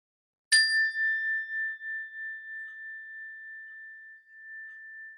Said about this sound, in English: When you hear the sound of the bell